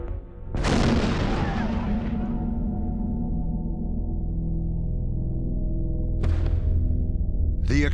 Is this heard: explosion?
yes